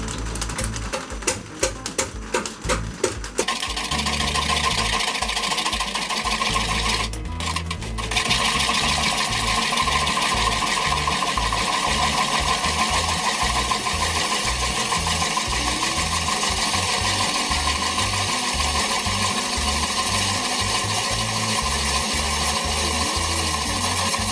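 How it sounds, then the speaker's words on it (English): A wood lathe turns a 17-inch end-grain cedar bowl at about 170 RPM while a tool takes a deep cut, a steady loud whirring hum with brief clattering bursts early on. "I'm making about a 1/4 inch deep cut here, but it's the only way I can start getting this thing really true."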